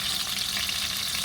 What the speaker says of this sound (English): you want to sear them on all sides